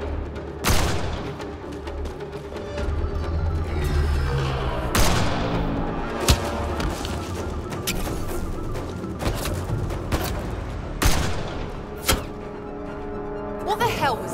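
Gunfire in the Mass Effect Andromeda video game, scattered sharp shots and booming impacts spread over a tense combat scene, with voices talking between the blasts.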